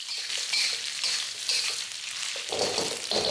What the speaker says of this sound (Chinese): 香料爆香后，就全部给它炒在一起。